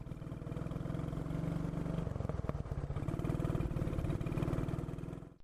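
A 1960 Panther motorcycle on a ride along snow-edged winter roads, its single-cylinder engine thumping steadily and loudly throughout with a slight shift in pitch partway, heard close with no talking.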